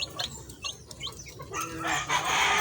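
Several six-day-old chicks cluck and chirp in short bursts, close by, with a busier chorus of higher calls building toward the end.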